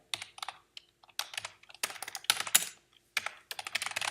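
Keys are typed on a computer keyboard in quick, irregular bursts of close clicking, with brief pauses between runs and no voice over it.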